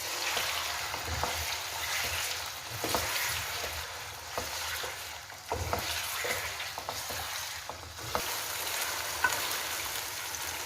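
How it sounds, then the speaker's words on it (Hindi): One kilo of chicken frying in hot oil in a karahi, with a loud, continuous close sizzle and occasional stirring clatter throughout. "हम ऑयल में चिकन डाल देंगे और इसको अच्छे से फ्राई कर लेंगे"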